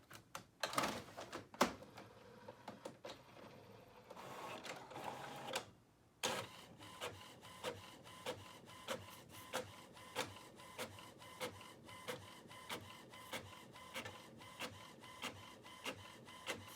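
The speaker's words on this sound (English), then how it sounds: "the printer runs it through and spits it out" Home printer feeding and printing sticky notes, with a few uneven clicks and a whir of paper pulling in, a brief pause, then a steady run of regular mechanical ticks about once a second as the print head sweeps.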